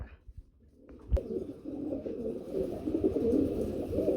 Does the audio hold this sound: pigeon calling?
yes